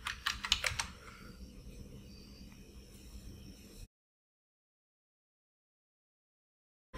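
Someone types an Ionic generate command on a computer keyboard, making a quick cluster of soft key clicks close by at the start, followed by quiet room hiss and then silence.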